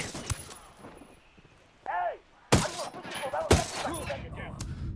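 Gunfire in the video game Ghost Recon Wildlands, a few loud sharp shots and short bursts close by, mixed with a brief voice and game noise between them.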